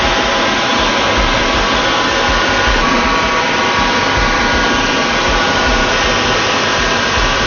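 Wooden baptismal bowl spinning on a lathe as material is cut away, a loud, steady broadband whir that holds constant and close for the whole stretch, with no talking.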